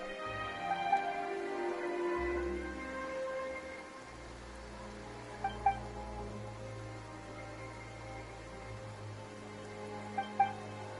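Rain falls in the Genshin Impact video game, a steady soft hiss over a low musical drone, with a few faint chime-like accents, continuous and moderately quiet throughout.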